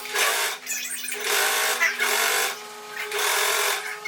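A sewing machine stitches along the lower lining edge of a blouse in repeated runs of steady whirring, each burst lasting about a second with brief pauses between, close and fairly loud.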